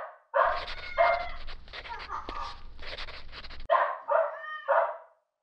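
A dog in the Barbie Pet Rescue video game barks several times in loud, close bursts, ending with some higher yips and whimpering sounds.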